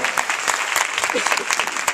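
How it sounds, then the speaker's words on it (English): Dense applause from an audience giving a standing ovation, a steady wash of many hands clapping with voices mixed in underneath. "Let's give them a round of applause."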